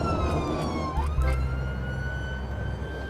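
An ambulance siren blasts through on a quiet Sunday morning, a loud, close wailing tone with layered harmonics that sweeps downward and then holds steady, with no talk over it.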